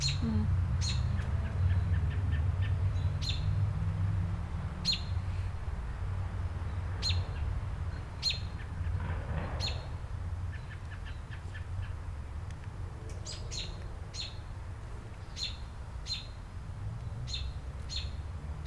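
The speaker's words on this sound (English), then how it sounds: "That bird is really loud." Loud, repeated bird calls ring out in short bursts over a steady low outdoor hum, continuing throughout.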